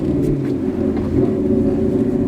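A Ford Mustang GT with a manual transmission rumbles steadily and loudly as light throttle is applied, a low, even engine drone with no voices over it.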